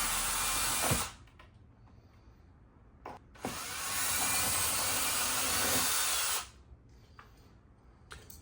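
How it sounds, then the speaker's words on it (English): A power drill whirs loudly for about a second while installing faux wood blinds on window trim, stops, then runs again in a long steady burst of several seconds before cutting off. "Just get you a drill with a longer attachment on there so it's not so rough on you."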